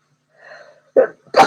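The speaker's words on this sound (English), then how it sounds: "I'm going to sneeze." A single person sneezes after a short breathy inhale, finishing with a sharp, loud burst.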